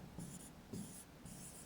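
Marker writing on a board, three quick scratchy strokes in a row, close and quiet, with no voice over them.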